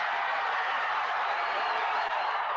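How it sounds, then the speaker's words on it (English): A crowd gathered outside a courthouse cheering, a dense steady wash of voices and applause heard from a distance, with no distinct speech. "Simpson supporters in the crowd outside the courtroom let out a cheer"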